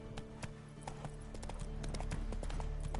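Horse hooves gallop in The Witcher 3, a quick, even run of close clip-clop strikes that gets slightly louder toward the end. No one speaks over them.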